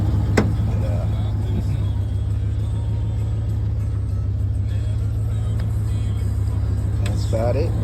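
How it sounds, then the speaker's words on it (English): A car driving along a road, heard from inside as a steady low engine and tire rumble with faint occasional clicks, continuous and even throughout. "we're heading back with this car that we picked up"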